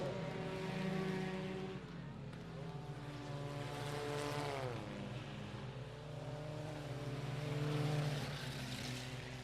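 IMCA Modified race cars rev their engines at I-37 Speedway on championship night, a continuous layered roar of several engines with rising and falling pitch sweeps, heard from a moderate distance.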